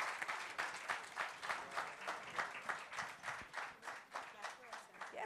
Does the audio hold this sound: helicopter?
no